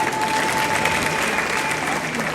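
A church congregation claps steadily in a dense, even burst of applause lasting a couple of seconds, with a faint tone running underneath.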